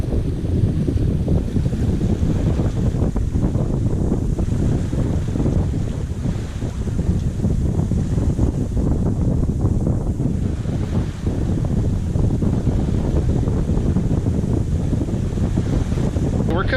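A sailboat under trimmed sails makes over 6 knots in brisk apparent wind near Catalina Island, with continuous loud wind buffeting and rushing water, steady and close throughout, no speech.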